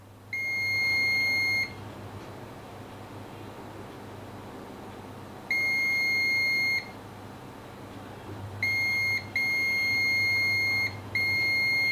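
Electronic continuity beeps from a multimeter probing a capacitor on a phone circuit board, sounding as steady tones in separate bursts: one long tone, a second after a pause, then several quick ones close together over a faint hiss.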